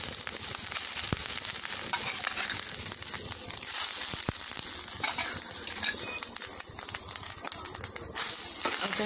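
Burnt coconut fries in oil in a wok while being stirred, giving a faint, crackling sizzle broken by scraping and clinking from the utensil.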